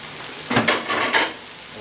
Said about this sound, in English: Let the oil and the garlic, ginger do this thing.